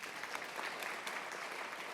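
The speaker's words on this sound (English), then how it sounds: "Warm clapping as well" A crowd claps steadily throughout, a dense patter of many hands applauding at moderate volume with no pause.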